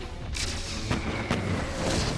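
Explosions from Combustion Man, the firebender in Avatar: The Last Airbender, come as a few loud booming blasts over a continuous rumbling roar, with no voices.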